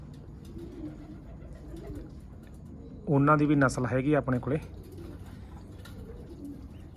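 Pedigree pigeons coo in a short burst of several rolling, throaty calls, close by and fairly loud, while someone speaks quietly before and after.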